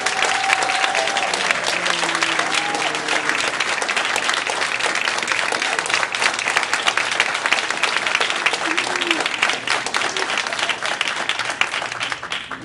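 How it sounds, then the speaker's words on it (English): Audience at a school board meeting applauding a school's state award, steady continuous clapping from a sizable crowd, with brief voices at the start. "Let's just give them a round of applause."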